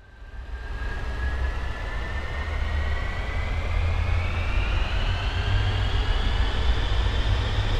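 The jet engines of an Avro Vulcan in Microsoft Flight Simulator spool up for takeoff: a steady, loud roar with a whining tone that climbs slowly in pitch as the bomber accelerates.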